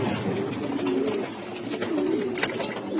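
A racing pigeon coos nearby in soft, repeated rolling phrases over a few seconds, with faint background noise and no speech.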